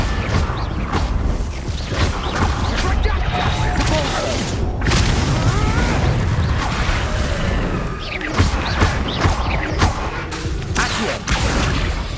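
Confringo blasting-spell explosions in Hogwarts Legacy, loud repeated booms, crashes and whooshes piling up in chaotic combat over dense game sound.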